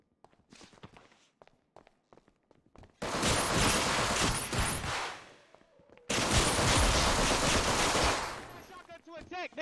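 Shotgun and other gunfire in the GTA RP video game, two long, loud bursts of rapid overlapping shots separated by short pauses, with quick footsteps beforehand and voices entering near the end.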